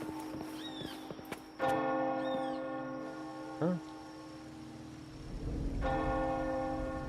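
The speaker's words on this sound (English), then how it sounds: "The midnight chime has faded, yet the night endures." A midnight church-style bell chime in the Wuthering Waves video game rings out in clear, resonant strikes that hang and ring on over a quiet game soundscape, with a brief spoken exclamation.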